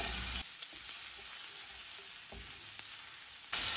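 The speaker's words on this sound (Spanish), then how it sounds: "En un sartén vamos a poner un chorrito de aceite. Aquí le voy a agregar 4 ajos picados, 2 chiles de árbol secos" Four cloves of chopped garlic and two dried chiles de árbol fry in a splash of oil in a pan, giving loud bursts of crackling sizzle at the start and end with a quieter hiss between.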